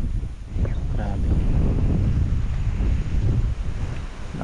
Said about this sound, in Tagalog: Lakas lang ng hangin.